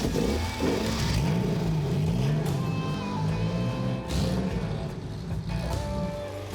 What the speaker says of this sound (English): and then firing the car up from the start button